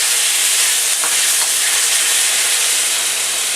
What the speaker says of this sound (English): Throw our shrimp in there